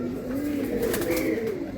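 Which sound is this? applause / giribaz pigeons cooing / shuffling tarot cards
giribaz pigeons cooing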